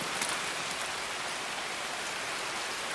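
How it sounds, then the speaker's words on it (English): Rain falling in the video game Escape from Tarkov, a loud, dense, steady hiss of drops pattering on surfaces with no other sounds or voices. "that rain is loud and irritating"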